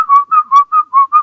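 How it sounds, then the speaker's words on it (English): A person whistles six short, even notes in a steady rhythm, close and clear with nothing else underneath. "Whoa, you're good at whistling."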